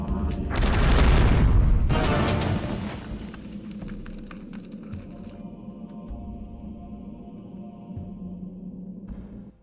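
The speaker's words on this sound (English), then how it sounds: "The explosion's gonna be bigger if I can't get the heck out of the way." A deep, heavy explosion booms in the Eternal Darkness video game, loud for about two seconds before fading into a low rumbling drone with a faint tonal hum and a soft thud near the end, no voices.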